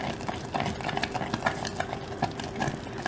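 Flour being stirred into a boiling butter mixture for cream puff dough, with quick repeated spoon scrapes and soft clacks against the pot in an uneven rhythm, fairly quiet and close, with no voices.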